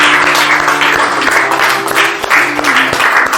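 A church congregation at a worship service breaks into sustained applause, a dense, steady clatter of many hands holding for several seconds over a faint low tone.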